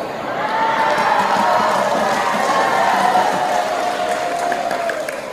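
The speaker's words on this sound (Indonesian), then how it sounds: "Kok tepuk tangan?" An audience at a comedic Islamic sermon breaks into steady, close applause mixed with crowd cheering. It swells in quickly and holds for about five seconds before easing slightly.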